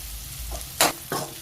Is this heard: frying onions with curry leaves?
yes